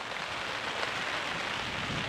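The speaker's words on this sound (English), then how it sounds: "As you can see, we are getting a pretty good rain test today." Steady rain drums on a tent pitched on Dartmoor during a wild-camping test of a Nortent Vern 2, a dense close hiss of drops on fabric with no pauses.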